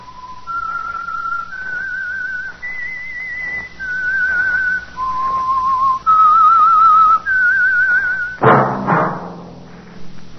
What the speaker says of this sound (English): That whistle. The Whistler.